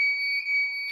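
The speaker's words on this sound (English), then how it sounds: "our alarm system is going off" A building alarm system sounds during a board meeting: a steady, loud two-tone electronic beep holds unbroken for the whole second, close and dominant with no talk over it.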